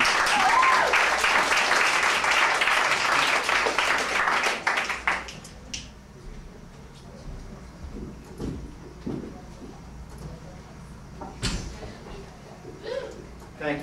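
Loud audience applause and cheering for a comedian taking the stage at a live comedy show, dense and sustained for about five seconds before fading into scattered claps and crowd murmur.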